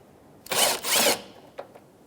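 A 10mm socket on a tool backs out a headlight mounting screw on a 2013-2018 Toyota RAV4, giving two close whirring bursts followed by two faint clicks, with no talking.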